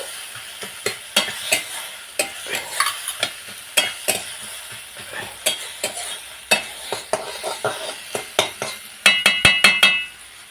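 Ginger, garlic, tomato and onion sautéing in a pan for a fish roe dish, with a steady run of sharp spoon scrapes and clinks against the pan over a soft sizzle, faster taps near the end.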